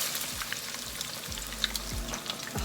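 Chicken patties dropped into hot oil for frying give a steady close sizzle and crackle, with faint low thumps as each patty goes in.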